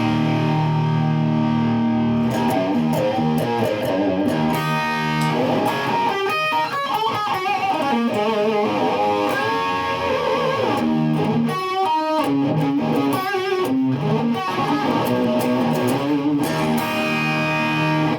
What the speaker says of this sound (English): That's with that overdrive pedal in there